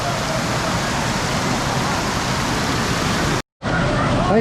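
Water rushes forcefully through a check dam on the Palar river near Vellore, a loud, dense, continuous roar broken by a brief cut near the end.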